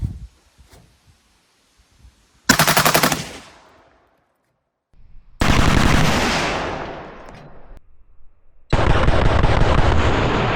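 Three loud bursts of fire from an M60-mounted 12 gauge shotgun at targets, each a rapid string of blasts that rings out before dropping to silence, with faint handling noise between.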